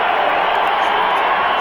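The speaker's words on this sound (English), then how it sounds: "Listen to this crowd. Standing." A bowling crowd cheers and applauds in a standing ovation, a dense, loud roar of voices and clapping that holds steady for the whole brief moment.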